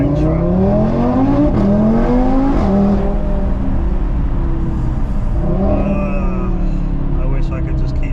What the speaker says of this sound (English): Pure 5-cylinder soundtrack.